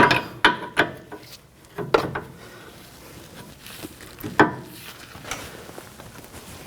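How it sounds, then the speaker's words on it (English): A ratcheting wrench snugs the jam nut on a 2016-2020 Kia Sorento outer tie rod, a few quick bursts of clicking pawl ratchet strokes close by, separated by short pauses with faint handling noise. "Snug up the jam nut."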